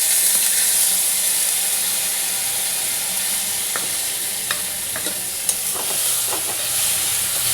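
Ingredients tipped into a pan with fried pomfret fish for a spicy curry, giving a steady, close sizzle with a few small clinks and stirring taps, no voices.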